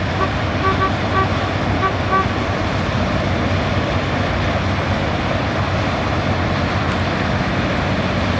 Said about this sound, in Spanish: Él, si no toca la bocina, no puede estar.